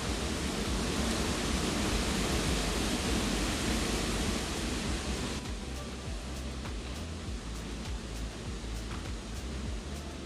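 Strong, steady wind rushes outdoors as a broad continuous roar, loud throughout and easing slightly partway through, with faint clicks and taps over it.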